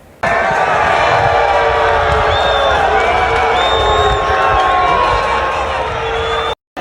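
Large stadium crowd at a Botafogo football match, a dense sustained roar of many voices filling the stands, loud and continuous with whistles and shouts rising over it, cutting out briefly near the end.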